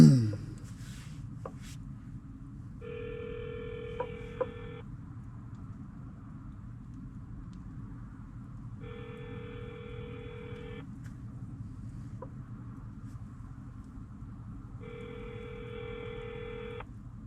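Telephone ringback tones sound three times at steady intervals, faint and clean over a low background hiss, as a call connects to a voicemail system.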